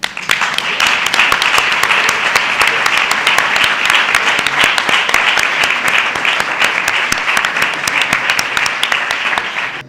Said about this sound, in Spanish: ahora en este aplauso sí que quiero que sea tan fuerte que es que retumben